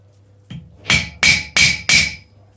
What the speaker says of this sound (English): flatten the rivet, pin the rivet